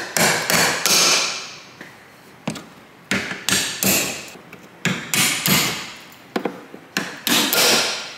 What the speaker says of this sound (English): we need a punch, 3 millimeter punch, and we're gonna tap in the middle of the rivets.